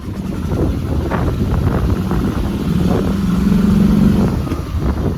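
A golf cart engine running after a carburetor fix and fresh gas, a steady close motor drone with a low hum and faint wind buffeting throughout.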